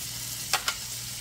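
Curry leaves dropped into a hot pan with green seasoning, garlic and onions give two quick, close sizzling crackles over a faint steady background hum.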